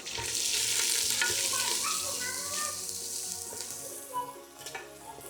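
Curry leaves, ginger, green chilli and crushed garlic sautéing in hot oil for a Kuttanadan duck curry, a loud sizzle that gradually settles, with light stirring scrapes and a few clinks toward the end.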